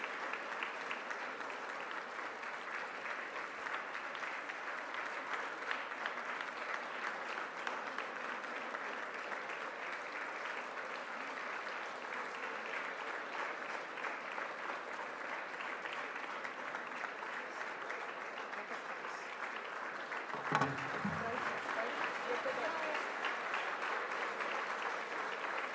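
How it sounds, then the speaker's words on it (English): Sustained audience applause at a law summit for the chief guest, a steady dense clapping crowd over about twenty-five seconds with one brief thump near the end. "Let us give a huge round of applause and felicitate our chief guest."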